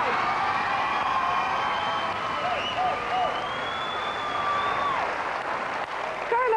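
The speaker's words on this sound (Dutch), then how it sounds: "Uw applaus graag voor Carlo Strijd." Continuous audience applause for a contestant on a television game show, broad and steady with some cheering and a few whistles rising above it.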